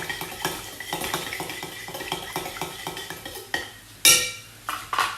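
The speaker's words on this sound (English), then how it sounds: "Let's give that a stir." A spoon clinks rhythmically against the side of a pot while stirring stock in boiling water, followed by a few louder clanks near the end.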